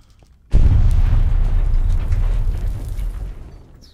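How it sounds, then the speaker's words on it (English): A single loud video-game explosion: a sudden heavy boom that starts abruptly, then a long rumbling roar that slowly fades over a few seconds, with no voices. "was that an explosion?"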